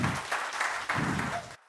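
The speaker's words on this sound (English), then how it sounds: "Scott, round of applause for Scott." Audience applause for Scott at a Kantech showcase event: a short burst of steady clapping from a crowd that swells and eases over under two seconds, then cuts off.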